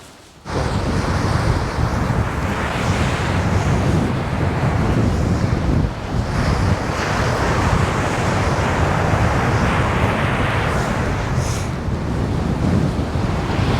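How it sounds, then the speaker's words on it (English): Wind buffets the microphone in a loud, steady roar while choppy waves wash against the shore continuously at high tide, with no voices. "These waters, they're a little choppy because of the wind."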